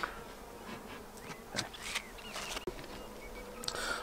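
Italian honey bees buzz densely around a hive, a continuous close swarm drone with individual bees passing near and away, no talking.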